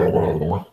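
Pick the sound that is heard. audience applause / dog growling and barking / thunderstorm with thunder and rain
dog growling and barking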